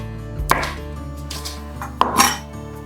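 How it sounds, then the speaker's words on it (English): Knife chopping through Polish comfort-food ingredients on a cutting board, two distinct sharp cuts about one and a half seconds apart, close and fairly loud over a low background hum. "now I'm just going to cut the slices of it"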